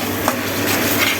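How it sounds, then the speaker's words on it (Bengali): Roast masala fries in a pan with a steady close sizzle, while a utensil clinks and scrapes as the spices are stirred. "এখন রোস্টের মশলা ভাজা হচ্ছে"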